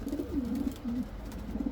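Homing pigeons coo in their loft after returning from a race, soft low repeated cooing phrases from nearby birds in a quiet space.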